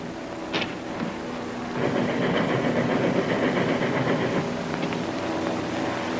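A train rolls along steadily, a continuous close rumble and hiss with rhythmic clatter of the cars, plus a couple of brief sharp knocks.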